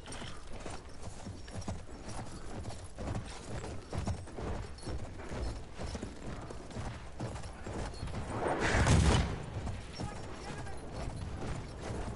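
Hooves clip-clop faintly in a video game, blended with mechanical clatter and a brief louder burst near the end, all at low level.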